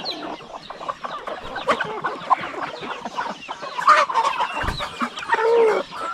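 Jersey Giant chickens cluck in a pen, a near, busy stream of overlapping clucks and short calls that rise and fall without pause across the whole stretch.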